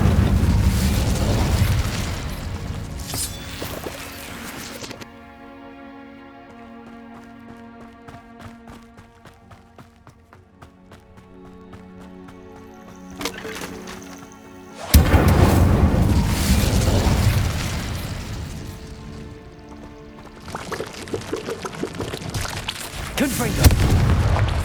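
Fiery Incendio spell blasts from the Hogwarts Legacy video game, loud booming bursts at the start and again in the second half, separated by a quieter stretch of tonal game music.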